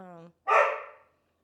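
A single loud, short woof voiced by a person in imitation of a dog's bark, following a brief sung or hummed tone, then silence.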